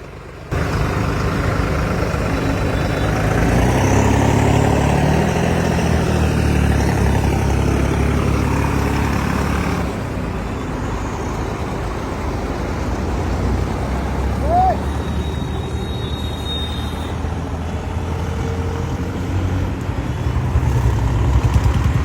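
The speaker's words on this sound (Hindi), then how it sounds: "टोचन जोड़ लिया और कर लिया बुलडोजर स्टार्ट और चलते हैं" A bulldozer's diesel engine running steadily while towing two Indo Farm tractors, a loud continuous low rumble with a change in load partway through, and no talk over it.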